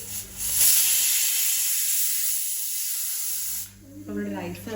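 A pressure cooker with cumin-scented jeerakashala rice and prawns releases a loud, steady steam hiss for several seconds, then cuts off abruptly as a voice starts talking nearby.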